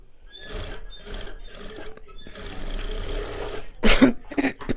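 Sewing machine stitching katori blouse fabric in short irregular bursts, a close mechanical whirring that starts and stops, with a louder clattering surge near the end.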